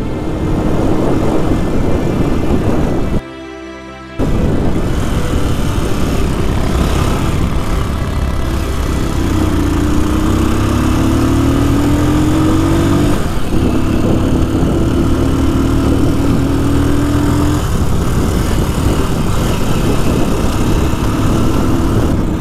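A motorcycle engine drones steadily while riding along a highway, a loud, close, continuous hum with a few rising whines as the revs climb.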